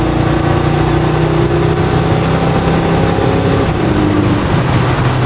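Loud, steady drone of a 1969 Ford F100 pickup's Windsor V8 pulling under throttle on a test drive, a dense continuous engine roar with faint wind and road noise and no talk.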